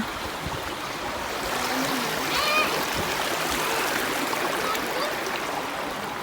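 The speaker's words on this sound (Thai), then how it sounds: "เป็นน้ำไหลน่นี่" A forest creek flows steadily downhill over rocks, making a soft, continuous rushing and splashing at low volume with faint voices in the background.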